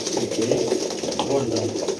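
Tumbler pigeons kept as Midyat show birds coo softly in a repeated low murmur while someone talks over them.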